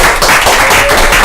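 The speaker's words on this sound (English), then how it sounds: "Brendan Murphy, everybody, give him a round of applause." Comedy club audience at Shakers applauding a comedian, a loud close burst of many hands clapping that sustains for about a second.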